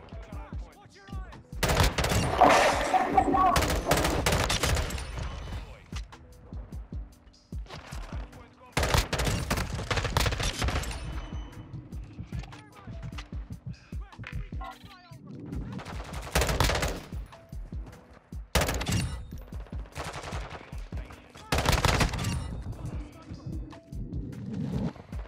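Bursts of M16 rifle fire in Modern Warfare 2 come in several separate loud volleys with quiet gaps between them, heard up close, while a player talks between the shots.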